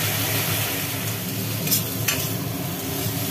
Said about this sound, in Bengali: পেঁয়াজ টমেটো আর আলু সুন্দর করে ভাজা ভাজি হয়ে গেল